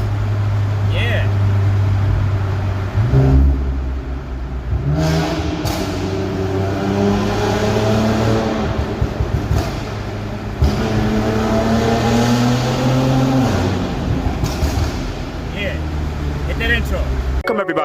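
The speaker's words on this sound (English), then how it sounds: "Let's put in some burbles and crackers." An Infiniti Q60 tuned to about 525 horsepower idling and revving, its exhaust rumbling with burbles and occasional pops, loud and close, while someone talks over it.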